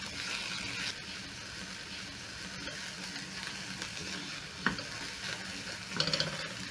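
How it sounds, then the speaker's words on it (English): Green and red capsicum fry with softened onions in a pan, giving a soft, steady sizzle with a few light stirring scrapes and clicks near the end. "As the onions are starting to soften up, I'm going to be adding in some green and red capsicum."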